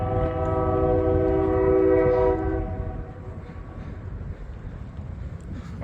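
A train passing near a river along the Snake River bike path in Idaho Falls, sounding a long steady horn for about two seconds over a rumbling roll that continues after the horn stops.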